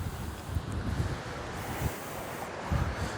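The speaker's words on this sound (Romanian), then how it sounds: "Doamne, ce fel bate vântul astăzi!" Strong outdoor wind buffets the microphone beside a Porsche Cayenne Coupe, a steady broadband roar with low rumbling gusts swelling and easing throughout and no voice heard.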